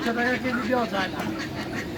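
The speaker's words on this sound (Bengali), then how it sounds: "মোরগ মুরগি হাঁস" Ducks quacking at a rural poultry market in Nawabganj, a cluster of nasal, repeated quacks close by in the first second, mixed with crowd chatter and people talking.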